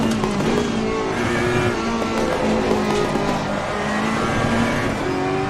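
A race car engine in the video game Assetto Corsa Competizione holds a loud, steady high-revving drone for the whole stretch, with slight tyre noise and no talk.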